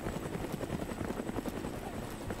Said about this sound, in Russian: О, еще и вертолет летит.